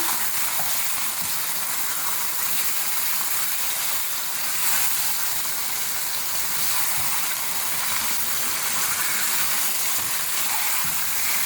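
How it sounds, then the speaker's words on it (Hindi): Chicken pieces fry with garlic paste in a karahi over a high flame, a loud, steady sizzle and hiss that runs unbroken throughout, close up with no talking. "1 मिनट के लिए इसको लहसुन के पेस्ट के साथ भूनेंगे तेज़ आंच पे।"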